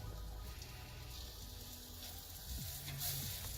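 Chopped green onion sizzling in bacon grease for a clam chowder roux, a soft steady crackle and hiss close by, fairly faint and continuous, with low background hum and no talking.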